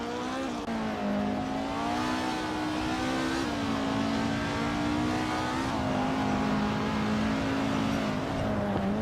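Race cars in a racing video game roar steadily, a loud sustained engine drone rising and shifting in pitch as they accelerate, continuous throughout with no voices.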